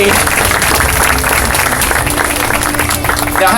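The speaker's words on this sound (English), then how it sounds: "Give him a big round of applause." Crowd at a SeaWorld San Antonio animal show applauds loudly and continuously through the clip, with a voice faintly audible underneath.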